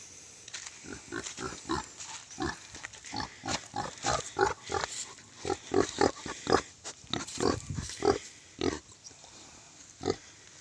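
A mother pig and her piglets grunt repeatedly on a Philippine mountain farm, a close run of short rhythmic oinks and snorts with brief pauses between bursts.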